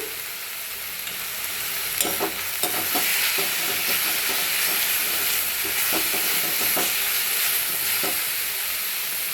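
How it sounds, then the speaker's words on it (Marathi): Dill greens for shepu bhaji are stir-fried in a pan, with a loud, steady sizzle and repeated scraping stirring strokes close by, and no one speaking. "आता आपण ते परतून घेऊया"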